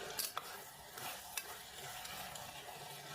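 Potatoes and peas stirred and frying with masala in a pan for aloo matar pulao: a faint soft sizzle with a few scraping stirs of the spoon.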